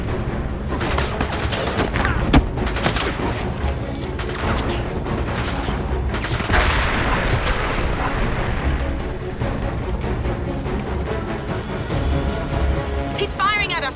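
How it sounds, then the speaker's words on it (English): Missiles fired at the player in James Bond 007: Blood Stone, a dense barrage of bursts and crashes under a constant game score, with voices talking throughout. "James, he's firing missiles."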